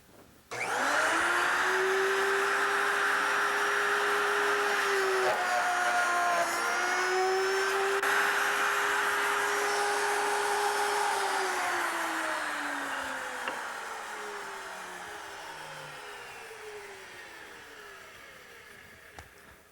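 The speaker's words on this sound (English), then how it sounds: "the fence is clamped securely, so I can proceed to make the cut" A stationary router table cutting wood gives a loud, steady, high motor whine that dips in pitch while the bit works through the stock, then tails off as the cut ends. No one speaks.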